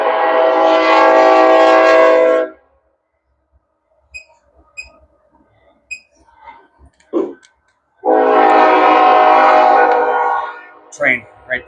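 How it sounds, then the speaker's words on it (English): A train on nearby tracks sounds two long, loud horn blasts separated by a quiet gap filled with faint clicks and knocks, the second blast followed by a few short rattles. "I'm sorry, there's a train. Once this train stops,"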